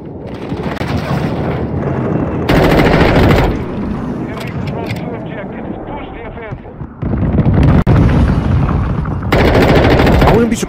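Rapid automatic gunfire bursts loud and close in Modern Warfare 2, shooting through walls and a container, with several sustained volleys separated by quieter stretches and someone talking over parts of it.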